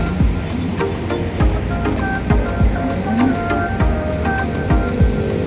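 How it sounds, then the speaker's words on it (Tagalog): Rain falls on a busy Quezon Avenue street in Manila, a steady close hiss of wet pavement with tires swishing through water and passing traffic rumbling beneath. "Maulan po dito ngayon mga kabibs."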